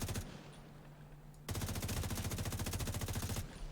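Rapid M1A rifle fire in The Division 2, a short burst followed by a dense run of evenly spaced shots, loud and up close with no talking.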